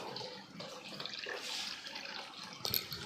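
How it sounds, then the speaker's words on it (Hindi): Tap water runs steadily into a mop bucket indoors at home, a close, continuous rushing stream with no talking and a brief louder splash near the end. "अभी हमारी पोंछे की बाल्टी भर रही है, पानी चल रहा है।"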